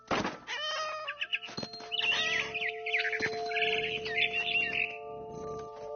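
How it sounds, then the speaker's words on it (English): Frightened barn swallow chirping in What Remains of Edith Finch, a string of high bright chirps and twitters fluttering over a steady tonal game backdrop, fairly close and continuous throughout. "I tried to be quiet, but the bird was really scared."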